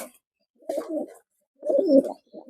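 A silver pigeon of Lalbag lineage coos in two low, rolling bursts separated by a short pause, close and fairly clear with no voices over it.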